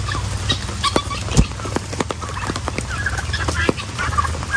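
Turkeys gobble and squawk repeatedly outdoors close by, a busy overlapping stream of loud fowl calls with no clear speech.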